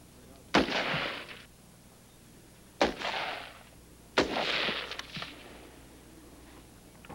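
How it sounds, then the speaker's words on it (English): Three loud, sharp M16 rifle shots on a Marine Corps qualification firing range, spaced a couple of seconds apart, each followed by a brief echoing decay outdoors. "The second week is actually firing the M16 for qualification."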